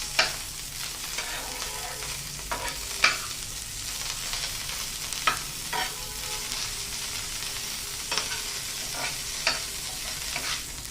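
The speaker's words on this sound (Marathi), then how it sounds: "मिरच्या, लसूण, खोबरं आणि कोथिंबीर हे असं छान तव्यावर थोडंसं तेल टाकून मस्त खरपूस" Chillies, garlic, coconut and coriander roasting in a little oil on a griddle, a steady soft sizzle with repeated scraping stirs and light clinks, close by and without talk.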